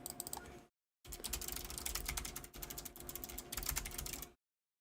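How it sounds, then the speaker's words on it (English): Steady typing on a computer keyboard, with quick clustered key clicks in three bursts separated by short pauses. It is close and fairly quiet, with no talking. "I love this keyboard."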